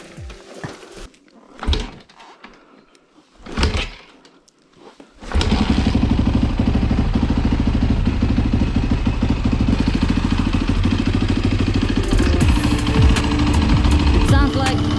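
A dirt bike engine, apparently around 350cc, catches after a few brief thumps and then runs on steadily and loud, close by, with a continuous rough drone to the end.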